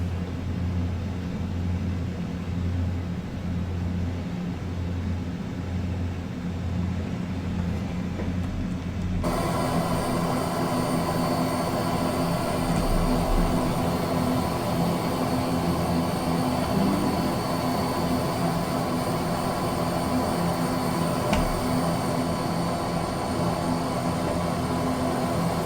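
Fokker 27 Friendship turboprop engines in flight, the steady cabin drone shifting to a lower, reduced-thrust tone partway through, a continuous broadband roar with hum throughout.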